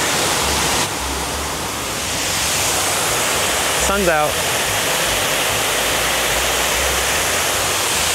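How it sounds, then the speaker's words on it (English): A misty waterfall roars as a steady, loud wash that fills the whole clip. A person speaks briefly partway through. "We found the waterfall, and it's super misty, but it's so pretty."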